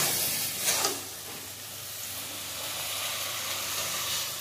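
Water poured into a hot pan of chilli chicken hisses and sizzles, a steady steamy fry that flares briefly at the start and then settles into a soft, continuous crackle.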